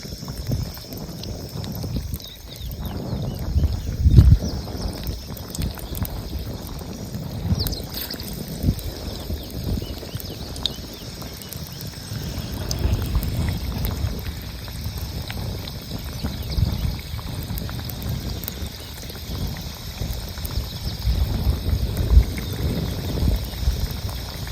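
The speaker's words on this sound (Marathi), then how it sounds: "आणि भजी ना अशी बारीक जाळावरती तळायची" Cauliflower pakoras in gram-flour batter fry in hot oil over a low flame, a steady bubbling sizzle with soft crackles rising and falling, no talking.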